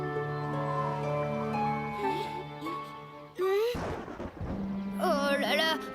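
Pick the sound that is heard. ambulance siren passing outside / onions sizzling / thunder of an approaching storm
thunder of an approaching storm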